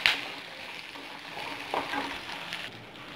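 Sliced onions sizzle steadily in a hot pan, with a few clinks and a stir or two, close and fairly quiet, with no voices.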